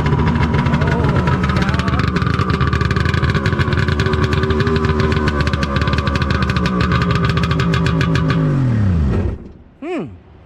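Tecumseh 5HP engine on a Craftsman 22-inch dual-stage snowblower running loud with its exhaust disconnected, a harsh, rapid steady chatter held for about nine seconds before it cuts off and winds down, then a brief voice.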